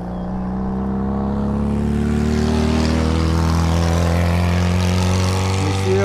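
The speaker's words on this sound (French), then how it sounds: "Bien sûr, toujours une voiture polluante et fumante." A car driving on a foggy mountain pass at 3,600 metres, a loud steady engine drone with strong low harmonic hum that swells slightly as it nears, no voices.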